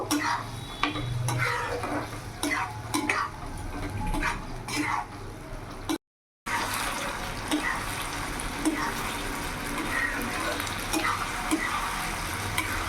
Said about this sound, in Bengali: ভেন্ডি দিয়ে এবার কিছুক্ষণ ফুটিয়ে নেব।